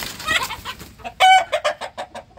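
Chickens at a homestead chicken coop give a run of sharp, close clucks and squawks in an uneven rhythm, with one louder call standing out midway, and no voices.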